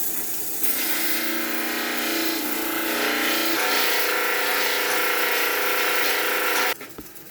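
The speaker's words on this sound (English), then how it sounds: "So all I'm going to do is just clean up my edge. I go to my disc sander." A disc sander grinds the freshly cut edge of a steel bolt, a bright, steady whirring rasp that holds for several seconds, shifts slightly in tone midway, then cuts off abruptly.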